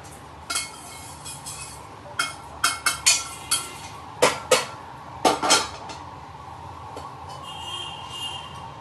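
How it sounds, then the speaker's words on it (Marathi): Roasted poha is scraped from a pan onto a wide plate, with about a dozen sharp metallic clanks and scrapes coming in irregular bursts, close and distinct against a quiet background, no speech. "पोहे आपले भाजून झालेले आहेत, तर काढून घेऊया परातीमध्ये"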